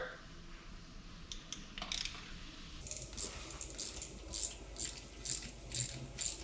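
Socket wrench with a 9/16 deep socket breaking loose a car spark plug during DIY tune-up work, heard as faint metallic clicks and rattling ratchet ticks in a quiet setting, with a sharper run of repeated clinks in the second half.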